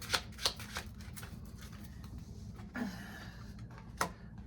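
Slick playing cards being shuffled close by, with soft riffling under a few sharp snaps and clicks of cards striking, including a longer riffle near the end, with no talking.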